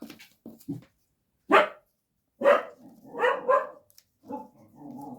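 A dog barks close by several times in irregular bursts, some short yips and some longer, grumbling barks, with brief silences between.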